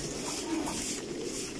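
Racing pigeons cooing inside a large pigeon-breeding loft, a soft continuous murmur of many birds over a steady hiss of background noise.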